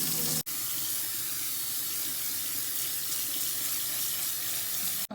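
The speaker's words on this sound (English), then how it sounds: "I'm gonna add more water and boil it again." Tap water runs in a steady, loud, continuous rush to refill a cooking pot, close by, with a short break near the start and again at the end.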